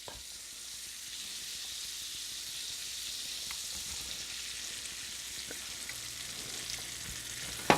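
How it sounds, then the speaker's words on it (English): Thinly sliced onions fry in butter in a hot pan, giving a steady, soft, even sizzle with faint crackles and no voices. "we're gonna start with the butter. Pan is already hot. We just want the onions to get soft"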